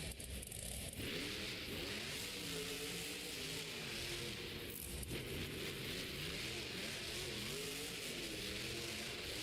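Monster trucks racing in a San Diego stadium roar in a dense, continuous engine drone with rising and falling revs. The sound is steady and distant, washed in crowd and arena noise.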